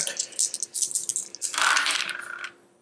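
Dice tumbling and clattering across a table during a game of the tabletop skirmish game Shadespire, a quick run of small hard rattles and clicks close by, ending in a brief settling roll.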